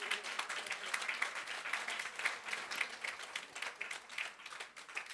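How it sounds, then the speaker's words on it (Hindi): Audience applause at a music award performance honoring Lata Mangeshkar, a continuous, fairly quiet wash of many hands clapping in a hall, steady throughout. "हमेशा ये आपकी ये तालियां ही चाहिए हमें इस प्रस्तुति के लिए।"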